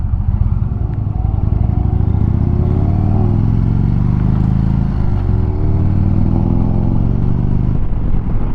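A motor trike rumbles steadily through 20 mph turns on a road trip, its engine note loud and close, rising and falling slightly with throttle and wind, with no talk.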